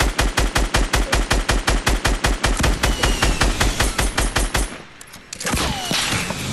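Rapid automatic gunfire from a Fortnite match, a loud, steady stream of evenly spaced shots for about five seconds, then a sudden stop followed by a softer burst and lingering noisy rumble.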